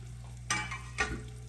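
Beef cube steak sizzles in a hot pan, a steady low fry broken by a few louder bursts as the meat is pressed and shifted.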